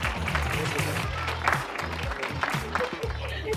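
Audience applause in a lively crowd, sustained dense clapping throughout with voices talking over it.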